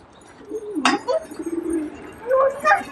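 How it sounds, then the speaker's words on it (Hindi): Pet pigeons cooing close by in a home loft, soft low throaty coos with a sharp flutter or clink in between, no talk. "सारे कबूतर बाहर आ चुके"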